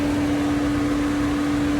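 A vacuum pump on a Mercedes-Benz B160's air conditioning runs with a steady mechanical hum, a strong constant tone and broadband whir, running evenly throughout without any voices.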